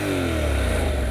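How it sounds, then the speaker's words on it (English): Honda NC750X DCT motorcycle (2015) idling in neutral with a steady low engine drone and gently rising pitch, close and continuous, alone without talk. "When it's in neutral, you can still rev it."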